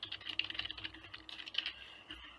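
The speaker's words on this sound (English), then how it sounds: "when you start typing here" Rapid, steady clatter of fingers typing on a computer keyboard, close and fairly quiet, with no talking.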